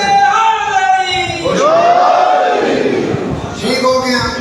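Crowd at a Muharram gathering in an imam bargah chanting religious slogans, loud massed voices rising in a drawn-out call and response, close and roaring, with a lead voice between swells.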